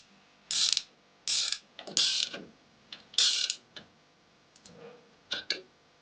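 Ratcheting clicks and creaks from a crimping tool for 1-1/4", 1-1/2" and 2" PEX pipe with copper rings, turned clockwise, come in several bright bursts separated by short pauses.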